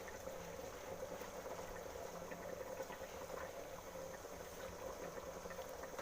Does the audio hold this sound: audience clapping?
no